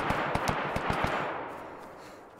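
A burst of rapid gunfire in the video game DayZ Standalone, about six sharp shots in quick succession followed by a fading echoing tail, with no talk over it.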